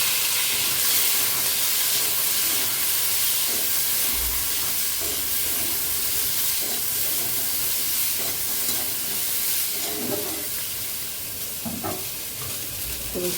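Jackfruit seeds go into a hot pan that already holds fried peanuts and sweet corn, giving a steady, close sizzle and hiss of frying with occasional stirring scrapes and clinks throughout.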